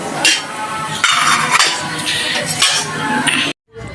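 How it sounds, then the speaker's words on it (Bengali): Metal cutlery scrapes and clinks against plates and a pot as fried rice is served, loud and close in a home kitchen, with a brief silence near the end. "ফ্রাইড রাইস নিয়ে নিচ্ছি এখন সবার জন্য খাবার নিয়ে নিচ্ছি, মানে প্লেটে সাজিয়ে নিচ্ছি"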